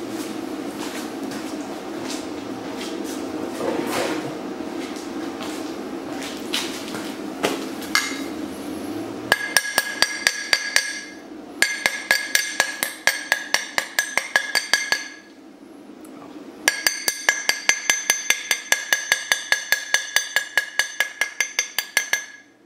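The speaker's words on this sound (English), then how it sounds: "Let's get the slag off and see what it looks like." Stick weld slag chipped off with a hammer: after some quieter scraping and handling, rapid bright metallic taps come in bursts of repeated strikes, close and crisp, pausing briefly between runs.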